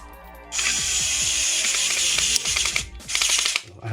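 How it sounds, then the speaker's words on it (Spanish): Screw driven into a PS5 DualSense controller with a small electric screwdriver, a steady high whine with rapid ratcheting clicks for about three seconds, a brief pause, then a short second burst, loud and close with no talk. "ponemos el tornillo para que no se mueva"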